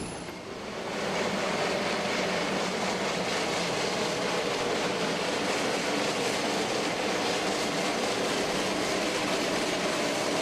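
A Georgetown Loop Railroad train rolls steadily along the tracks arriving at Silver Plume, close and loud, a continuous rumble with faint rhythmic wheel clatter throughout.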